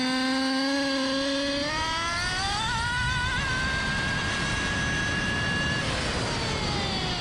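An overpowered nitro RC buggy engine screams continuously and loud, revving up in pitch and holding a high steady whine before easing off.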